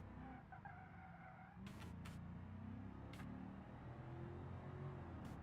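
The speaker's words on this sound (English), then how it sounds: "this is a pretty fast minivan" A minivan engine revs hard while driving fast in BeamNG.Drive, as a low, quiet, steady drone. A few brief sharp bursts cut through partway, like tire squeals.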